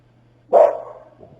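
A single sharp bark from a dog outside a house, followed by a dull fading thud that could be a car door shutting, all heard from a distance over a constant low hum.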